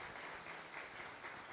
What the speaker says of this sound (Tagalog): pwede po ba isang malakas na palakpak sa ating Panginoon?